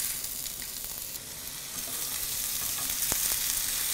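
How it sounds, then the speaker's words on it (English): Parsnip rosti fry in a hot pan with a steady, close, bright sizzle that crackles evenly throughout, with no voices. "You hear that lovely sizzle."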